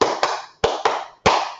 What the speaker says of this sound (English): And then they would do the clap part.